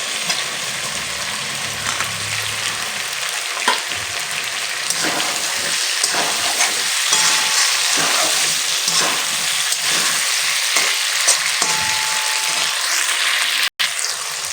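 Potatoes fry in a pan as chopped tomatoes go in, giving a loud, steady sizzle with scraping stirs throughout and no talking.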